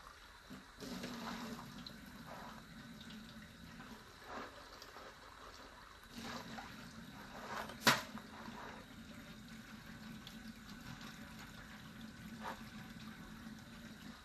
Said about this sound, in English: I'm just going to wash this off.